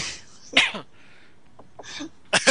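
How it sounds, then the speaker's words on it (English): A few short, harsh coughs in bursts separated by quiet gaps, close to the listener, with no talking in between. "I'm just coughing."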